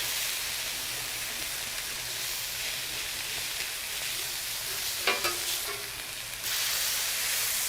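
Smash burgers sizzle on a Royal Gourmet portable griddle, a steady close frying hiss with a few scraping spatula touches near the end.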